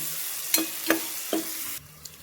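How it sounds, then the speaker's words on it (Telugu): Masala macaroni pasta with turmeric is stirred in a frying pan, three scraping strokes over a steady sizzle that then drops away, leaving a faint tap. "పసుపు వేసినాక కూడా మంచిగా కలుపుకోండి."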